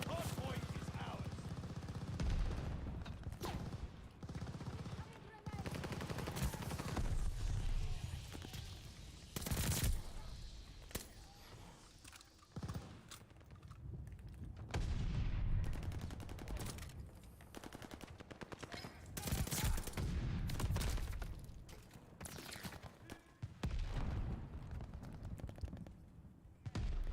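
Rapid automatic gunfire and bursts of shots fill a video game battle at a hard point, loud and dense throughout with brief lulls, while a game announcer voice calls out objective updates.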